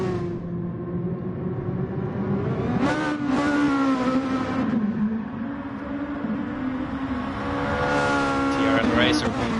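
Race cars in a racing video game cornering through the Nurburgring carousel, engines droning and rising in pitch as they accelerate, with tire noise, steady and fairly loud throughout.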